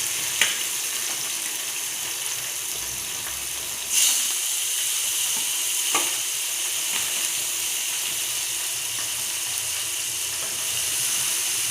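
Katla fish frying in hot oil gives a steady, bright sizzling hiss, with occasional sharper spits and crackles, close and continuous throughout.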